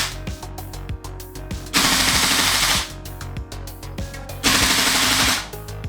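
Tokyo Marui gas blowback airsoft rifle firing rapid full-auto bursts, a dense mechanical clatter of roughly twelve shots per second, broken by two longer hissing bursts of gas, close and loud with no talk.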